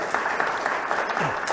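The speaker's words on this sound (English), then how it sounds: "Can we get a round of applause for Ascoft?" A brief burst of audience clapping and cheering, steady and fairly loud, with some voices mixed in.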